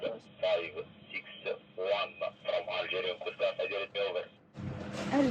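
Algerian Coast Guard call over a marine VHF radio on channel 11 aboard a sailing boat off the French Riviera: a tinny, band-limited voice transmission with choppy bursts, ending with a burst of static.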